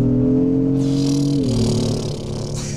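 A Lexus SUV with a ladder-frame chassis accelerates hard at full throttle, its engine note loud and close, rising steadily and then dropping as it shifts gear, with continuous road and wind noise and no talking.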